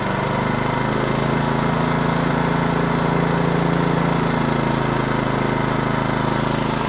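An Ariens Professional 28 inch snowblower engine runs steadily after starting, a loud, close, continuous drone.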